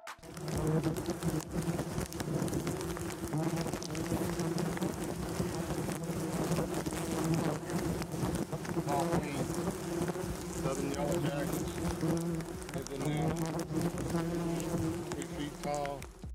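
A large swarm of yellow jackets buzzes steadily around a colossal nest built on the underside of a raised house in Dulac, Louisiana, a dense, continuous drone with shifting pitch that never lets up, with faint talk beneath it.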